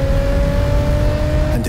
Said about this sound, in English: With the variable valve active exhaust system enhancing performance capability